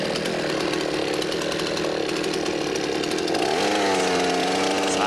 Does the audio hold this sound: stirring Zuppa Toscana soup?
no